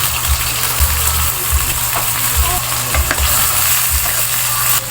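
Onions sizzling in a hot pan with garlic for a home-cooked igado, a loud steady fry with regular scraping stirs throughout.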